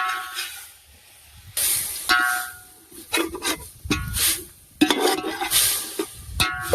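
Gongura chicken curry being stirred in a hot pot outdoors, with scraping spoon strokes over a sizzling hiss, close and irregular, no talk.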